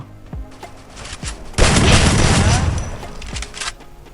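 Free Fire video game gunfire from a shotgun and AK rifle: a few sharp single shots, then a sustained loud burst of rapid automatic fire lasting over a second, followed by scattered shots.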